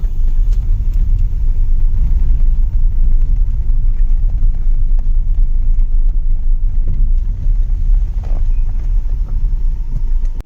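A car driving along a forest road, a loud, steady low engine and tyre rumble heard from inside that continues throughout with no talking.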